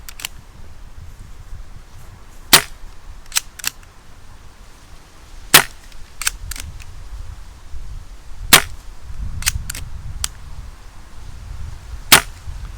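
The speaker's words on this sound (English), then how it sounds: "So let's just do a few shots." A silenced Victory CP2 multi-shot air rifle fires a series of short, sharp, muffled cracks spaced a few seconds apart, nearby and moderate in volume over a quiet background.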